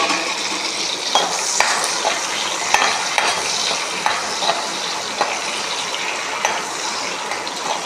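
Chopped onion and green chillies fry in hot oil with a constant loud sizzle, broken by regular stirring scrapes and spoon taps against the pan, no talking.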